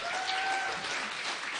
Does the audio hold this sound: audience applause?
yes